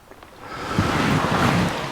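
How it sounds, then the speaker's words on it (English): Heavy pouring rain outside a garage, a dense, steady broadband wash that swells slightly and holds as a continuous roar, with no voices over it. "it's pouring rain out there."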